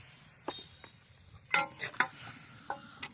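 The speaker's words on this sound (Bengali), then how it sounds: "দিয়ে এবার এই মাংসটা সুন্দর মতো কষানো শুরু করলাম" Chicken pieces frying in a bubbling spice paste for a Bengali potato chicken bhuna, with a soft sizzle under intermittent scrapes and clacks of a spoon stirring the pot, close and fairly quiet.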